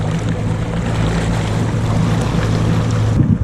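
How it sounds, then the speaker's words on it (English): A steady low engine rumble of a jet ski idling on the water, loud and continuous, with some water and wind noise around it. "We're idling in from our jet ski tour."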